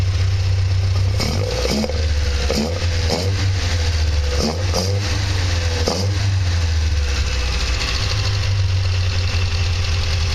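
A 1960 Triumph TR3A engine on Weber DCOE 42 carburettors idles loudly with a deep rumble, briefly revving in several quick blips before settling back to a steady idle, radiator cap off.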